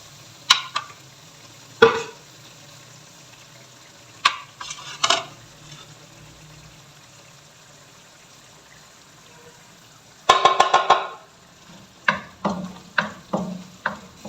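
Spice masala frying and being stirred in a karahi for aloo karahi, heard as scattered scraping stir strokes with pauses between them over a faint, steady sizzle, with no talking.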